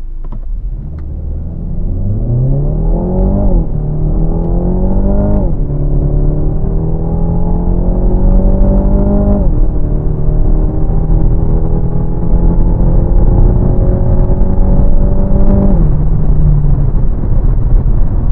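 A Renault Talisman 1.6 TCe with the EDC7 automatic pulls hard from a standstill in sport mode, its engine note climbing loud and close through several upshifts over a long run.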